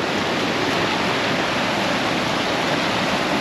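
Flood water released from a dam rushes past in a loud, unbroken roar, a dense wash of turbulent water close by with no voices.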